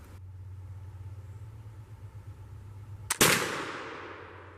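A flintlock firearm fires once in the woods during solo target shooting, a sharp loud crack after a brief ignition flash, followed by a long decaying echo through the trees, preceded by a steady low engine-like hum.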